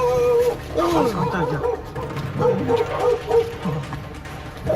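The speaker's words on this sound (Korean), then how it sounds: "사납게 짖는 백구가 보입니다" A large, fierce-looking white dog resembling a shepherd barks and yips in a trash-strewn narrow apartment entrance and hallway, its bursts mixed under continuous narration.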